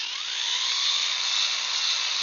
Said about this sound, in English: I'm gonna drill this